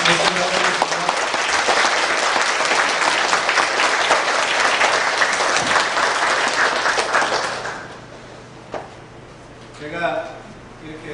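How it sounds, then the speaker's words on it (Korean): A church congregation in a Korean service bursts into loud, dense applause to welcome the pastor, sustained and enthusiastic for about eight seconds before fading. A voice then begins speaking over the quieter room. "우리 열광의 박수로 한번 맞이하도록 하겠습니다"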